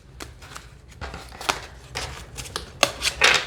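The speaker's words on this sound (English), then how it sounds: "It definitely shuffles well without my user error." Close-up riffling of a deck of cards, with rapid papery flutters building into a few louder bursts near the end.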